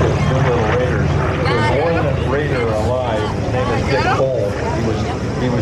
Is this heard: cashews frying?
no